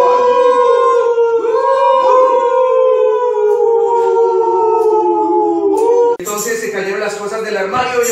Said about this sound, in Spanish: Y de repente el lobo comenzó a aullar. Aullaba más fuerte. Y los demás lobos aullaban.